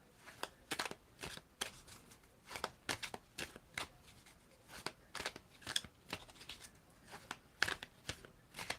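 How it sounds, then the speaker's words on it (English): Tarot cards are shuffled by hand in a long run of crisp, riffling bursts, irregular but steady and close, with short gaps between, and no talking over them. "I'm asking you to tell me when to stop shuffling."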